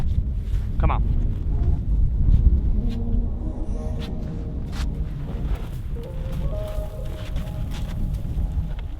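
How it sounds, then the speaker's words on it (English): Steady low wind rumble buffeting the microphone outdoors on an ice-fishing outing, continuous throughout, with faint footsteps and movement in the background. "It's pretty windy out here."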